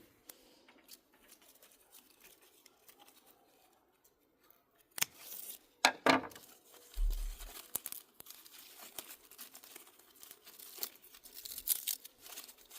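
Garden shears snipping plant stems while gardening outdoors, a few sharp close cuts in quick succession with rustling of foliage, then quieter handling noises.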